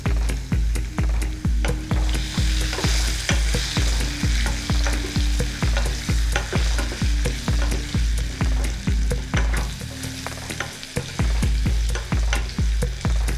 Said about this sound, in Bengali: টুকরো করে কেটে নেওয়া আলুগুলো ছেড়ে দিচ্ছি ভাজবার জন্য নিয়ে নিচ্ছি নুন নিচ্ছি হলুদ গুঁড়ো